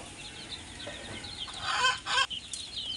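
A brood of eight young chicks, four cockerels and four pullets, cluck and peep in thin, high calls close by, rising into a busier cluster of chirps midway.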